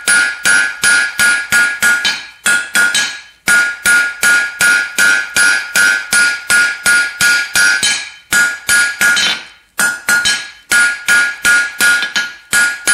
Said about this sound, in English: To make the head, we're going to flatten out about 2 inches of this 3/8 rod.